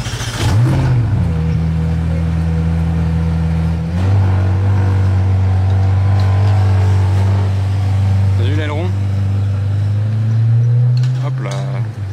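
A McLaren Senna supercar drives past in Monaco, its engine a loud, steady low drone with a rising rev near the start and shifting pitch later, over continuous background noise.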